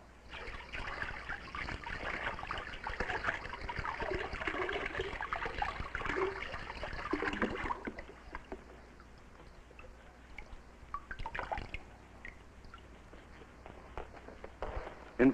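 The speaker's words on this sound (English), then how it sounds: "So, we can simply hose it off." Water hosed over Mylar insulation in a 1950s setting, a steady rushing spray for about eight seconds, then softer trickling and dripping.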